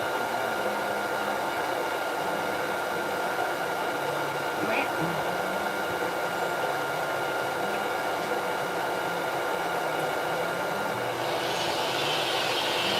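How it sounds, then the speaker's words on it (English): A hair dryer blows on a Ragdoll cat's fur with a steady, loud whooshing hum that never lets up, with faint, indistinct voices in the background. "Now you could take a dryer and fluff this cat out and comb it out that way."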